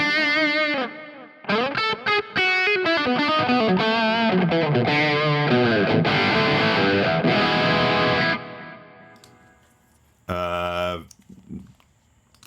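A distorted rock lead guitar tone from an artist preset in the Two notes Genome amp software, with cabinet enhancer, light reverb and delay, plays a fast run of sustained, saturated notes, then pauses before a final ringing burst.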